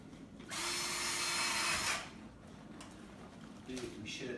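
A power drill whirs loudly for about a second and a half, grinding steadily into a coconut, then stops, with a brief second burst near the end.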